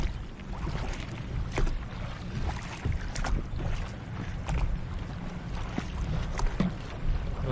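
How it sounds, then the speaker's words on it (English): A pontoon boat sits at a nearby dock on a bay while about twenty people board. A continuous, fairly loud wash of wind and lapping water fills the whole stretch, with faint knocks and no distinct engine. "About 20 people getting on a pontoon boat at the dock nearby."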